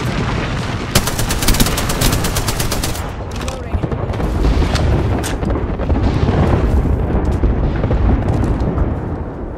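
Bangalore's artillery strike in Apex Legends: a loud, dense barrage of rapid blasts and gunfire-like cracks packed into the first few seconds, followed by continued heavy rumbling explosions, with a voice briefly heard.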